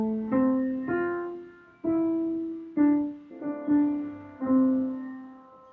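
A short, slow piano melody from Brahms' Lullaby, single notes played alone, each note ringing and fading before the next.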